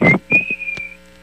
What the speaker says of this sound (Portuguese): A vítima caminhava tranquilamente e assobiava.